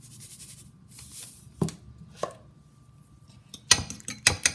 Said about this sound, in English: And beat them for a little bit.